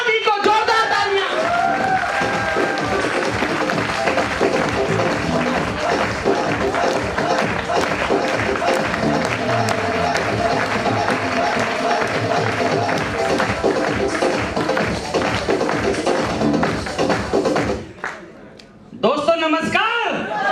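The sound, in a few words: audience applause welcoming the speaker to the stage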